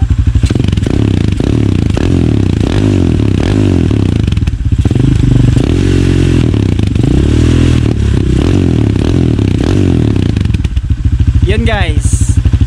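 A Rusi Classic 250 motorcycle with a modified, cut exhaust pipe revs hard close up, its loud rough engine rising and falling in pitch with a rattly pulsing note, and a voice speaking over it near the end.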